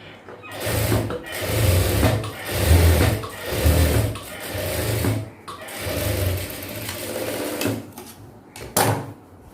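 A sewing machine runs a double stitch along the seam of a pair of girls' night shorts with pockets, its motor whirring in several bursts of rapid, steady stitching with short pauses between them, close and alone.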